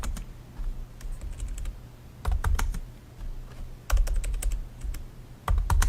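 Typing on a computer keyboard to enter a product type, bursts of quick clicky keystrokes in several runs separated by short pauses, close and clear, with no talking.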